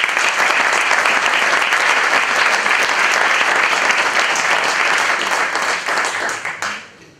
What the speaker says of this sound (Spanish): ¡Fuerte la aplauso!